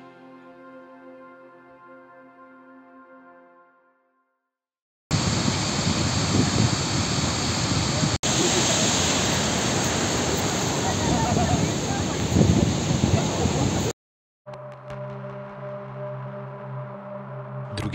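An Icelandic waterfall roars as a dense, steady broadband rush, loud and continuous for several seconds, bracketed by music before and after.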